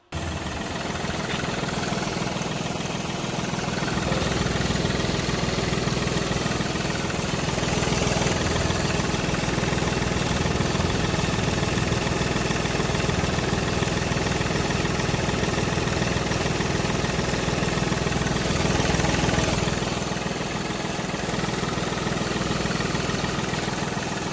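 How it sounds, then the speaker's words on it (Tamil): A Hyundai Xcent diesel engine idles steadily and loudly close by, a constant rumbling drone with no talking. "இன்ஜினோட நாய்ஸையும் அப்படியே லைவாக கேட்டுருங்க"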